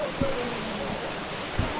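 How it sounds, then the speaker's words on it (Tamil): Mangalam waterfall at Pachamalai pours as a steady broadband rush of falling water, with a couple of brief low thumps and faint voices nearby. "இப்போ நம்ம எங்கே இருக்கோம்னு பார்த்தீங்கன்னா மங்களம் வாட்டர் ஃபால்ஸ் இங்கே தான் இருக்கோம்"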